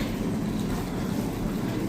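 Moldovan rail car of a Soviet-era sleeper train passing close by, a loud, steady rumble of wheels and carriage noise filling the whole stretch without talk.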